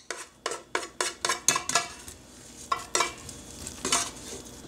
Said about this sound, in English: Now it's just a matter of stirring it up.